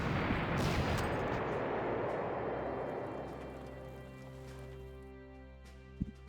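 Steady rain in a World War II strategy game set at Poznan 1945, a loud hissing wash at first that thins and softens over several seconds, ending with a single faint tick.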